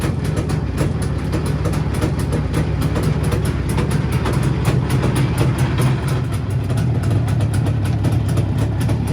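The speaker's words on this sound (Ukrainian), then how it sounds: "Дивіться, як чітко працює. Такий вихлоп, пак-пак-пак, все як має бути." A small engine with CDI ignition idles after a carburetor adjustment, its exhaust chugging in a steady, even rhythm. The sound is close, loud and continuous for the whole stretch, with no talking.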